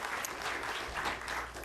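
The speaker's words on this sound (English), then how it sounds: "Let's give a big round of applause for Jim Green." Brief, faint applause from an audience at a NASA event marking Curiosity's first year on Mars, soft steady clapping at a distance with no voices.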